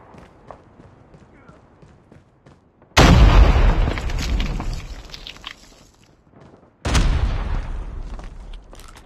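Frag grenade blasts in the Call of Duty Mobile multiplayer game: two loud booming explosions with long rumbling tails, the second after a few seconds, following quieter footsteps and game sounds.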